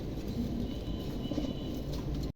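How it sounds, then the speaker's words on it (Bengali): A pair of pigeons offered for sale coo softly and faintly beneath a steady, broad background hum that runs almost to the end before cutting off. "চমৎকার একজোড়া কবুতর দেখছেন"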